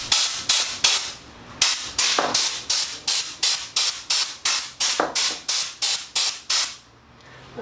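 Short bursts of compressed-air spray blasting dust off a shadow box frame, about fifteen sharp hissing puffs in a steady rhythm, close and loud with brief gaps between.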